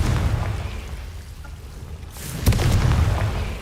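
A Confringo fire spell explodes in Hogwarts Legacy, a deep rumbling boom landing midway with a sharp burst, over a low continuous game background rumble and no talk.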